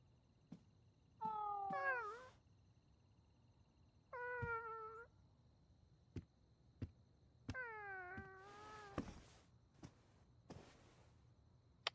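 Cat in the anime Link Click, meowing three times in drawn-out, wavering cries spaced across a quiet stretch, close and clear, with soft clicks and small knocks in between and no voices.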